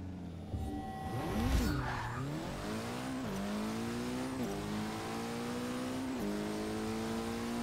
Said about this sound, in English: I don't think the launch was good enough there.